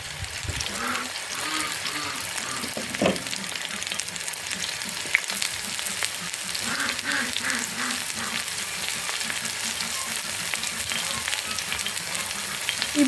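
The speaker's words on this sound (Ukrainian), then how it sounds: "будемо обсмажувати наші грибочки, трішечки" Mushrooms frying in a pan for a mushroom soup with vermicelli, a steady soft sizzle with occasional stirring scrapes, close and even throughout with faint background talk.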